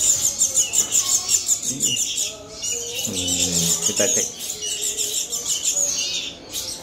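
Young serindit hanging parrots give rapid high thin chirps and twitters close by, continuing throughout, with someone speaking briefly over them.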